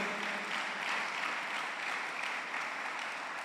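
A church congregation claps for the Lord during a sermon, a steady, dense wash of many hands clapping at once that holds evenly throughout at a moderate distance.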